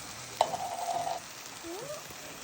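Black beans warming in a pot are stirred for a black bean soup, a spoon dragging with one long squeaky scrape and a shorter rising one over a soft, steady background hiss.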